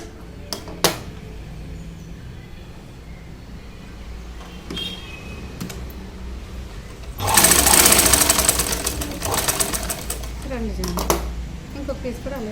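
A sewing machine stitches a plain blouse, a loud burst of rapid mechanical whirring after scattered clicks and handling noises, then shorter runs, with someone speaking in places.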